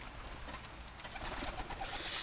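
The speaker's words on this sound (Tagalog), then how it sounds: "Grabe, ang dami talagang ibon dito" Pigeons at a racing pigeon loft in Bulacan, faint, steady cooing and fluttering spread across a hissy, noisy background, with no clear single call standing out.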